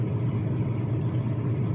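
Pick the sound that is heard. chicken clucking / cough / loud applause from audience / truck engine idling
truck engine idling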